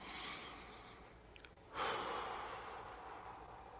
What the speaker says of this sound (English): And inhale deeply. And exhale.